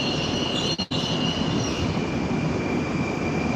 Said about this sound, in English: It's the Moscow Metro.